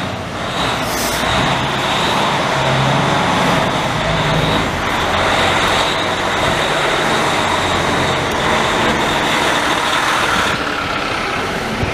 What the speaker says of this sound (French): Camion Western Star!